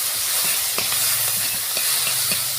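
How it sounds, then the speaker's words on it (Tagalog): Ginger sautés in a hot pan for ginataang pako, a dense, loud, steady sizzle with a few soft stirring clicks and no talking. "maggisa muna ako guys ng luya"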